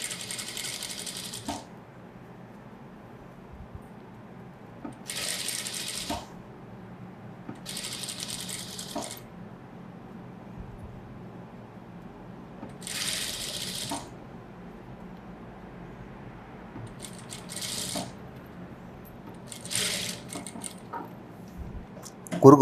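A sewing machine runs in short stitching bursts on a single blouse, each run a rapid mechanical clatter separated by pauses, with quiet talk in between.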